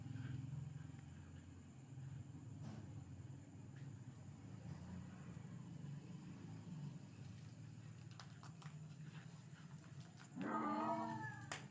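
Black cat yowling inside an old haveli, a loud harmonic wail rising near the end over a steady low rumble of background noise.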